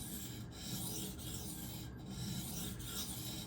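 An Esee Izula II knife blade is drawn across a sharpening stone in quiet, steady rasping strokes. A faint periodic rhythm repeats about every second or so, with no talk.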